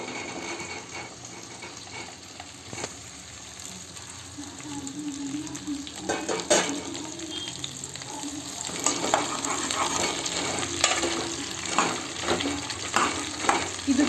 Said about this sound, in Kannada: ಓಕೆ, ಇವಾಗ ನಾನು ಬೆಂಡೆಕಾಯಿ ಹಾಕ್ತಾಯಿದ್ದೀನಿ.